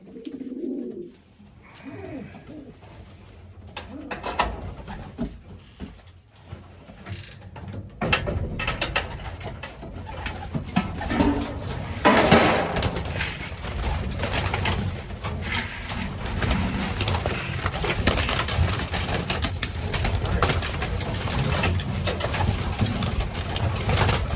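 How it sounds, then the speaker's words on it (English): Pigeons feed at a new feeder in a loft, cooing close by over scratching, pecking and mechanical clatter as the flock crowds in, the activity growing busier and louder over time. "I'll set it up here and feed the birds and watch them go crazy over it"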